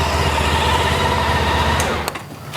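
A Honda ST1300 Pan European motorcycle engine runs at a steady idle after an oil change, a continuous close hum that drops away near the end as it is shut off.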